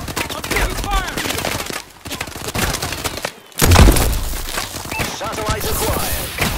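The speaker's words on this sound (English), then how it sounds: "I'm taking fire!" Rapid gunfire in the video game Call of Duty: Advanced Warfare, with loud, continuous automatic bursts and thumps that break off briefly before resuming. Game voices talk over the shooting.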